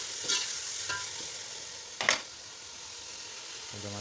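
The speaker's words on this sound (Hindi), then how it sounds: "टमाटर एंटर करके सही से मिक्स करें।" Chopped tomatoes being mixed into chicken and potatoes frying in a pan: a low steady sizzle broken by three separate stirring scrapes, the third the loudest, then a faint tonal hum near the end, with no speech.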